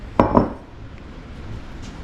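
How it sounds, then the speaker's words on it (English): A heavy cast iron skillet is picked up and set down in a home kitchen, giving two quick close metallic clanks in succession, then quiet room tone. "I'm gonna get me an iron skillet"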